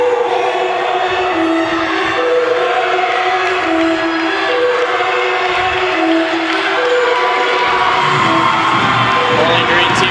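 Bowling Green gymnastics teammates cheer for a competitor during her routine at a meet against Western Michigan. The cheering is a continuous, loud wash of crowd voices and shouts inside an arena.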